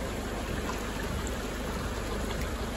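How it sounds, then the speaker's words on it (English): Floodwater from the 2022 Moree flood pouring over a road causeway, a steady broadband rush of flowing water with no breaks, moderately loud and continuous throughout. "We've got a fair bit of water coming over the road here in this causeway."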